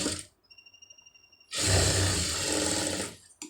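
A sewing machine stitches a light, shallow seam on a blouse shoulder joint, running in one loud, steady burst of about a second and a half after a quiet pause, then stopping abruptly.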